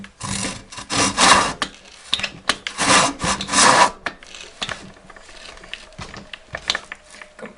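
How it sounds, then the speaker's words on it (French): Close, rasping strokes of a hand saw cutting wood on an unsteady workbench, a quick run of loud back-and-forth passes that thins into lighter, scattered strokes. "Je refais avec cette scie là."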